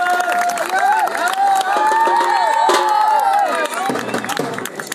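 A crowd at a cricket final cheers and claps steadily, with loud overlapping voices and whistle-like calls through the whole stretch.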